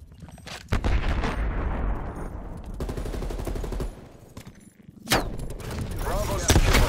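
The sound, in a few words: artillery strike in Call of Duty: Black Ops Cold War video game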